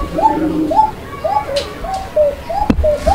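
Basiraj Kokka pigeon giving a thin, flute-like coo, a string of about seven short rising-and-falling calls in steady rhythm, close and clear, with a sharp click near the end.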